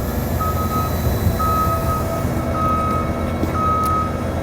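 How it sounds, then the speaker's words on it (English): Steady reversing-style warning beeps repeat at regular intervals over a low engine rumble as fire truck outriggers lift the vehicle at a fire station, loud and close, no talking. "Once the outriggers are set up, they will then lift the vehicle."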